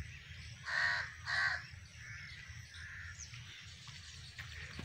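Crows cawing near a village farmyard with buffalo, two loud harsh caws close together followed by a few fainter calls over a low background rumble.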